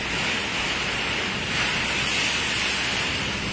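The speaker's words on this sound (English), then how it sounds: "This demonstration shows the strength of the wind according to its velocity." Strong wind gusts in a wind strength demonstration, a steady loud rushing roar of broadband air noise that holds constant throughout with slight swells and no voices.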